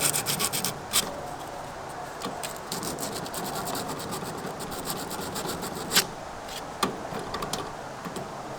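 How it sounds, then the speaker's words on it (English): Emery cloth rubbed by hand over a rusty metal part of an outdoor wood furnace, a continuous close scraping rasp with uneven strokes and a few sharper clicks. "just got me some emery cloth"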